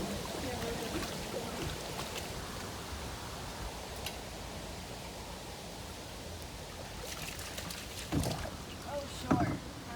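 Small boat out on open water during storm cleanup, with a steady broad wash of water and hull noise throughout and a couple of brief knocks and splashes near the end; faint voices in the background.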